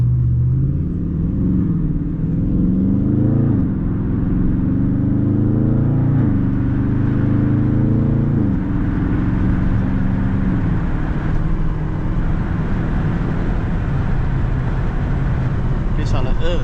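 A Ford Mustang 5.0 racing through city traffic, its loud engine rumbling steadily with rising and falling rev sweeps early on, while people talk over it.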